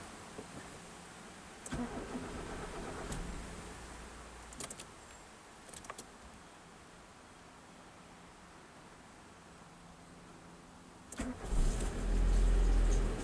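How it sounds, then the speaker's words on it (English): A 1995 facelift Nissan Primera P10 cranks and fires up outdoors near Athens, with a few brief clicks and clunks first, then a short starter whir and the engine catching into a loud, rumbling idle at the end. "after igniting the engine."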